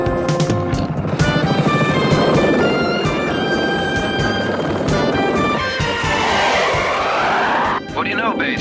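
Helicopter in flight, a loud dense rotor and engine roar held throughout with speech over it and a swooping whine near the end.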